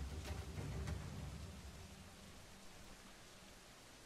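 Steady rain falling in Assassin's Creed IV: Black Flag, a soft, even hiss that runs throughout, slightly heavier at the start, with no voices.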